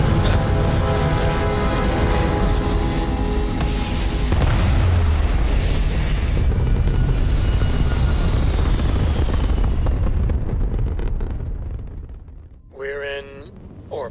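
A spaceship taking off in Starfield, a deep sustained roaring rumble that builds and swells, then fades away as a voice speaks at the end.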